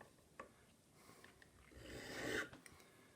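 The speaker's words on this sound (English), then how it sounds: "We'll now bevel the end of the tapered pin at 45 degrees using the file" A metal file rasps against the tapered end of a small clock pin held in a spinning pin vise, with a few short soft strokes and one longer swelling scrape, faint and close.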